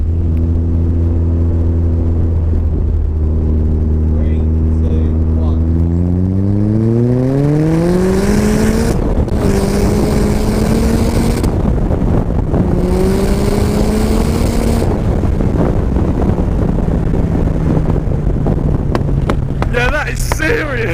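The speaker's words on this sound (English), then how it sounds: "Here we go, fourth gear pull on high boost." RX-5 250 car accelerating hard in fourth gear on high boost, engine pitch rising steadily through a long pull with loud wind rush, then easing off into a lower drone, heard from inside the car.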